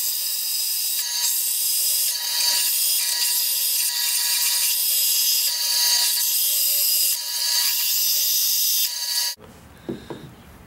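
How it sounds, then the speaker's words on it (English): A bandsaw cuts a metal knife blade profile, a steady, loud, high-pitched grinding whine running continuously for most of the clip before cutting off abruptly near the end, followed by a few faint clunks. "we've got it mostly cut out on the bandsaw."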